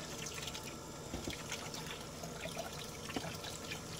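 Running water rinses an RV air conditioner filter, a steady broadband splash and trickle held at close range, with small drips and spatters scattered through it and no voices.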